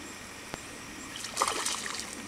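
A smallmouth bass jumps and breaks the surface of a stream, giving a burst of close splashing and splattering water about midway, after a sharp tap and over a steady trickling background.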